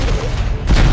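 A deep, sustained explosion rumbles through the Dead Space video game, loud and broadband for about a second, with a second heavy boom swelling near the end.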